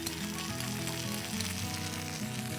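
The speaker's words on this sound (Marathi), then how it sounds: "यामध्ये आता चिली सॉस टाकते" Chili sauce hits a hot pan for crispy veg lollipops, and a loud, steady sizzle and frying hiss fills the whole moment with no voices.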